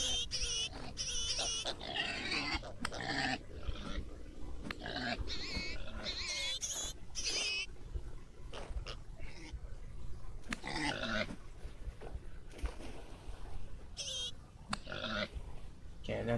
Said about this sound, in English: I probably don't need to be in the pig pen with the angry pigs.